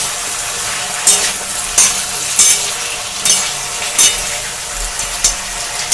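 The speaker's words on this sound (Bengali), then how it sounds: "এবার আলুর সঙ্গে আমি ভালো করে মিশিয়ে দিচ্ছি।" Potatoes and torn green chillies are stirred together in a sizzling pan for a kachori-shop style potato curry, a steady loud frying hiss broken by regular scraping strokes of a spatula about every second, close up, no speech.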